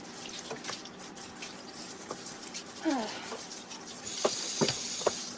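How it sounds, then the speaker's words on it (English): Something being rinsed out under a kitchen tap, with water patter and splashing at a sink, punctuated by a few clinks, under a voice talking. "Let me rinse this out real quick."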